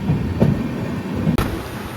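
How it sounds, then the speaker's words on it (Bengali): A train pulling away from Cooch Behar, heard from inside the coach as a low steady rumble with rhythmic clickety-clack wheel knocks and a sharp clunk near the end. "আমাদের ট্রেন এখন ছেড়ে দিয়েছে কোচবিহার থেকে"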